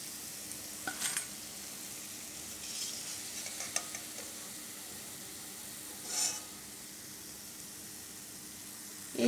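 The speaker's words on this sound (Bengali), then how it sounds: "এইভাবে আমি সব চপগুলো ভেজে নেব" Egg chops frying in oil, a soft steady sizzle close by with a few brief clinks and scrapes from turning them.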